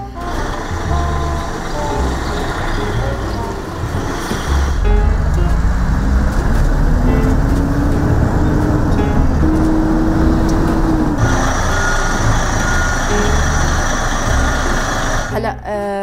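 A semi-trailer truck rumbles steadily with a loud, continuous low engine drone and a rising tone as it drives, with intermittent beeps and road noise throughout; no one speaks.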